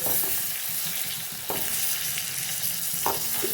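Potatoes fry in a pan with red chili powder, giving a loud, constant sizzle. Scraping stirs break in at intervals and no voices are heard.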